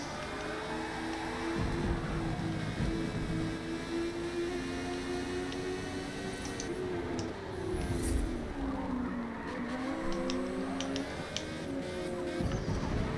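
Ginetta race car in Forza Motorsport, engine revving and shifting through gears in steady rising and falling sweeps, continuous and up front, with brief sharp mechanical clicks over it.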